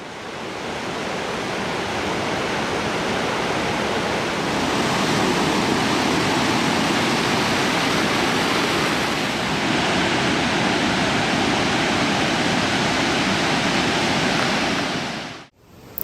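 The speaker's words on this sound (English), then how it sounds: "the Watson River, fed almost entirely by the Russell Glacier, has surged from unprecedented melting" The Watson River, fed by the Russell Glacier, surges in flood from heavy meltwater, a loud, continuous roaring rush of turbulent water, steady and close, with no voices.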